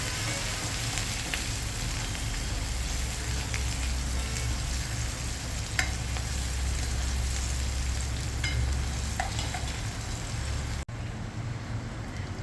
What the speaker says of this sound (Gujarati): એક મોટી ડુંગળી કટ કરેલી એડ કરીશું. એને પણ આપણે બ્રાઉન થાય ત્યાં સુધી સાતળીશું.